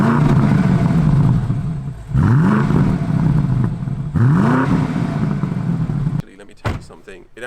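A BMW M8 Convertible engine revs three times nearby, each blip a sharp rising snarl that falls back to a burbling idle, ending with a clatter and quieter sounds as people talk around it.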